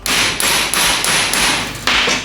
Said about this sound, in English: jam it in there, put weight on it, and hit it with your hammer